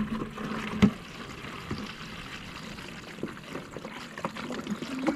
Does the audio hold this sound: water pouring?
yes